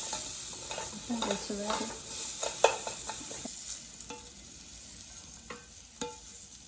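Carrots sizzling softly in a pan with a few light scrapes and taps of a utensil, a quiet voice briefly speaking over the frying.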